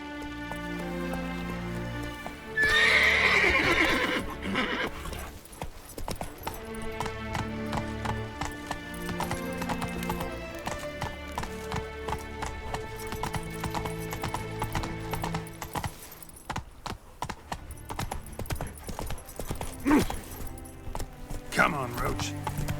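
Roach, the horse in The Witcher 3, gallops with rapid hoof beats and gives a loud neigh early on, all under swelling game music.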